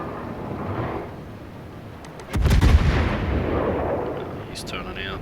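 Naval gunfire from a German cruiser in World of Warships: a heavy, booming salvo lands midway, rolling out into a long rumble over a steady low battle drone, with brief clanks near the end.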